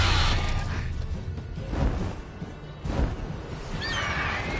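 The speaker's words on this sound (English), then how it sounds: "There's a horse." A horse in The Witcher 3: Wild Hunt whinnies loudly at the start, followed by hoof clatter and scattered thuds, then a second higher neigh near the end, with no talking.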